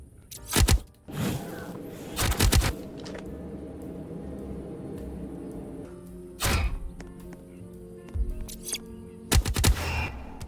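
Alien shotgun and ray gun firing rapidly in Roblox 99 Nights: four loud bursts of rapid game gunfire, spaced a few seconds apart, over a steady low electronic drone.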